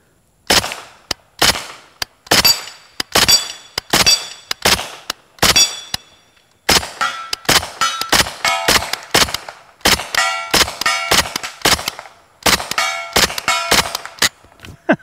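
Suppressed Kalashnikov USA KP9 blowback pistol firing, a series of sharp metallic cracks with a ringing clang, first as spaced single shots and then as a faster string, close and loud with no talk.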